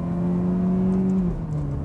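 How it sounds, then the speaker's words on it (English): A Ferrari F430 engine runs with a loud, close, steady tonal drone that rises slightly and then drops in pitch near the end, with no voices. "Okay, it's a Ferrari."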